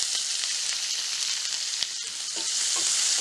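Sliced large onions sauté in hot oil with curry leaves and asafoetida for an okra curry. A loud, continuous close-up sizzle runs throughout, with a few light stirring clicks and no talking.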